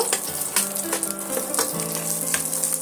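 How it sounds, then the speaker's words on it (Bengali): Onions fry in hot oil for aloo dopiaza with a constant close sizzle and bursts of stirring, while quiet background music plays. "পেঁয়াজটা ভালো করে ভাজা করে নেব"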